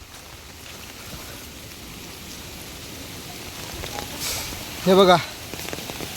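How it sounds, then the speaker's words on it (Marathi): Monsoon rain falls steadily beside a swollen reservoir during a flood, a soft continuous wash of patter under someone talking briefly near the end. "पाऊस काय पडतोय बघा, पाणी बघा."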